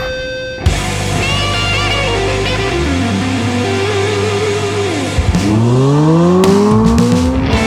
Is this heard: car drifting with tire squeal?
yes